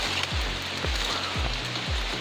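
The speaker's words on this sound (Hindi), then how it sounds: "काफ़ी तेज़ बारिश होने लग गई है" Heavy rain pours outdoors on a trip to Chota Mahadev in Pachmarhi, a dense, continuous hiss close by with faint low thuds recurring about twice a second.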